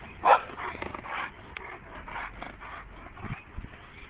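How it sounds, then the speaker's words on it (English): Dogs bark on a neighborhood walk around the block, a few sharp, fairly distant barks and yips scattered irregularly over quiet outdoor background. "These dogs barking at me."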